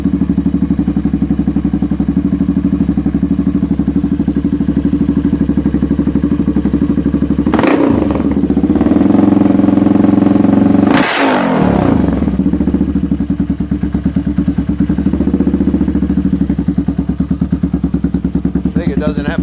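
A 1985 Honda ATC 350X three-wheeler with a Cobra aluminum cone exhaust idles loud and close in a steady low thumping rumble, with two sharp throttle blips in the middle before it settles back.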